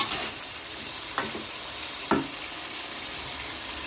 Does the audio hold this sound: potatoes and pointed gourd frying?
yes